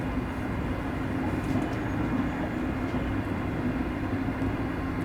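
Locomotive slowing under braking on the Glasgow, Dunblane and Alloa route in Train Simulator Classic, a steady, loud rumbling roar of wheels and motors with a faint tonal hum, alone without talk.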